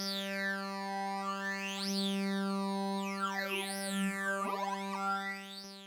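A sustained synthesizer tone with rich harmonics, its timbre sweeping up and down in slow, swirling phaser-like waves.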